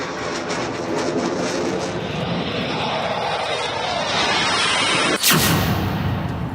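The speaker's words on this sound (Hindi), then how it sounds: "गंगा एक्सप्रेसवे पर गरजे इंडियन एयरफोर्स के लड़ाकू विमान।" Indian Air Force fighter jets roar over the Ganga Expressway, a loud, continuous broadband jet rumble that builds steadily before a sharp crack-like burst near the end, then a lingering roar.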